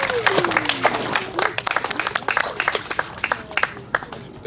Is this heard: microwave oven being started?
no